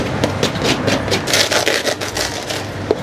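Rapid crisp crunching and crackling, close and dense, as crusty panino bread is pressed or bitten, with a few sharper snaps.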